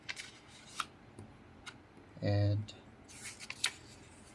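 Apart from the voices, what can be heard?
folding white paper by hand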